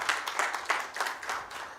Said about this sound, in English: A big round of applause to Diamond Trust Bank.